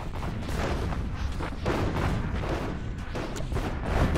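Artillery firing in the video game Planetary Annihilation, a continuous barrage of overlapping booms and blasts, loud and dense with no clear pauses.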